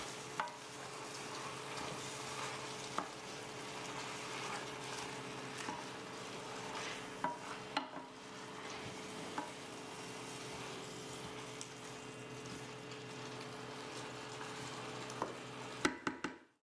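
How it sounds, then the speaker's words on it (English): Fresh spinach is stirred in a pan to wilt it while cooking for spaghetti squash, giving a steady sizzle with soft scraping stir strokes throughout and a few louder clinks near the end, no talk. "Stir to wilt the spinach and let it cook for 1 minute."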